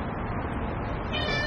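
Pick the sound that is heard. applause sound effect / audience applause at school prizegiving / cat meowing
cat meowing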